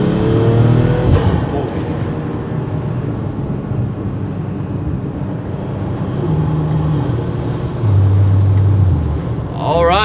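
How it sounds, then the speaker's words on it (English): Big-turbo BMW M340i running E85 fuel accelerating at full throttle in fourth gear, a loud, sustained engine drone with rising tonal bands, heard from inside the car with someone talking over it. "So this is 4th gear right now, and I'm gonna open her up and we're gonna see what our boost is at."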